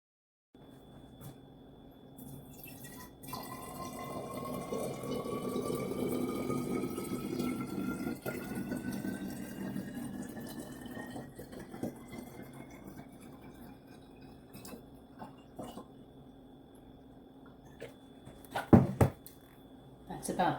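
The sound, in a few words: filtered water being poured for homemade mouthwash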